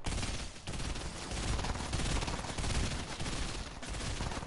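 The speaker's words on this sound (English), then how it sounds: "I'm getting shot at." Sustained video game gunfire, a dense rattling fusillade of rapid shots that runs loud and continuous through the whole stretch with only a brief dip near the start.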